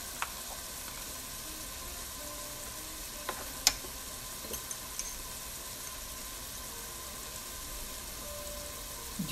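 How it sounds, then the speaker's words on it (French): Paprika, cumin and spices frying in oil for a white bean stew, with a steady, soft sizzle throughout and a few faint clicks of a utensil. "نخليوه يتقلى"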